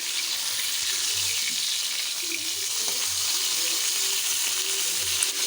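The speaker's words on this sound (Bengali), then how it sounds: "তো এদিকে দেখো মাছগুলোকে আমি ভেজে নিচ্ছি।" Fish fry in a pan with a constant, close, crackling sizzle that holds steady throughout, with no voices over it.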